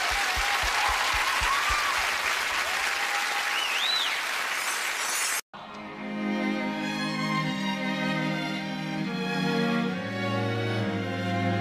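Audience applause for a performer at a Christmas music show, a dense burst of clapping that runs about five seconds and then cuts off abruptly as music with a melody begins.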